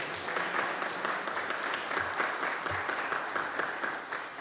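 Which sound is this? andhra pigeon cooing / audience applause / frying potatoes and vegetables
audience applause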